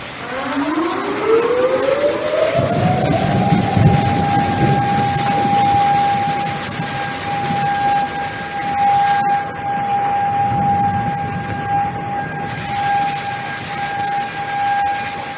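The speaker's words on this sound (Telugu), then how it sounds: "ఆ సైరన్లు మోగుతున్నాయంటే అక్కడ రెడ్ అలర్ట్ తాలూకా ఒక ఆ సైరన్ అని చెప్పాలి" A tsunami alert siren in Japan winds up from a low groan to a loud, sustained wailing tone and holds there, with a second siren layered in the background.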